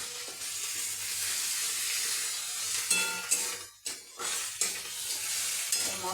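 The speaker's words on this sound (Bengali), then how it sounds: "মশলাটাকে কষে নিলাম।" Spice masala frying in a pan while being stirred, with a continuous bright sizzle and hiss and a few scraping stirs, plus one brief quiet dip near the middle.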